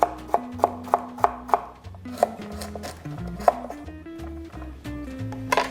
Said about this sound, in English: And now let's give them a nice chop.